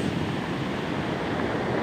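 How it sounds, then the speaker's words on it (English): Ocean waves, both small and large, breaking on a beach shore before sunrise, heard as a steady, broad rushing wash of surf with no distinct individual crashes, close and fairly loud throughout. "it's just so relaxing listening to the waves, the small waves, the big waves"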